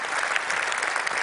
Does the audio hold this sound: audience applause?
yes